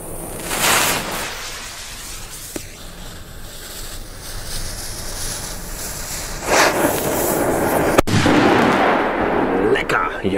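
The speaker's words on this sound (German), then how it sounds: "Jetzt die Knallpatrone." A single sharp, loud bang from a banger cartridge cracks out against steady outdoor noise and rumble, followed by a brief rush of crackling.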